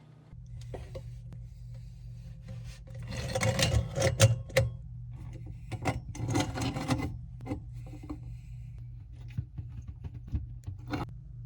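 A plastic pop-up drain nut with an O-ring is threaded by hand onto a bathroom sink drain, giving close, intermittent rasping and rubbing scrapes that swell in the middle and then thin to scattered clicks, with no talking.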